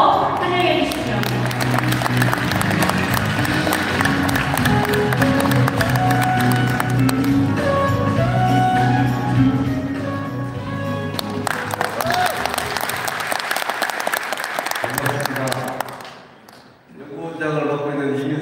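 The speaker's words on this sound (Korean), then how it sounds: "여러분 박수로 환영해 주십시오." Sustained applause from an audience at a hotel event in Daejeon, ICC Hotel, welcoming a speaker, loud and dense clapping that thins out near the end, with voices and background music mixed in.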